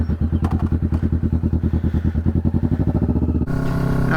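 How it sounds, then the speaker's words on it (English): A Kawasaki Vulcan 650 motorcycle engine idles with a steady, loud, rhythmic low thrum that shifts to a higher, smoother drone near the end as it revs. "now we're going off on a ride on the Vulcan 650s"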